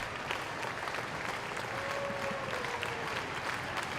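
Fans at an LSU college baseball game against Samford roar and clap as the tension builds late in the inning, a steady, fairly distant wall of crowd noise with no clear voices on top.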